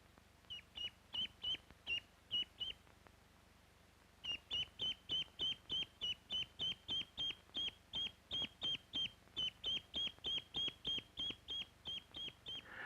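A duck searching for a lost object quacks over and over in a steady, rapid rhythm, loud and close, with a short pause before the calls resume even faster.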